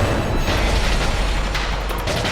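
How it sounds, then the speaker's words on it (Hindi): A heavy cannon booms in a historical Mughal-era TV drama battle scene, a dense, loud, sustained rumble of blasts filling the whole stretch without speech. "तोप चलाओ।"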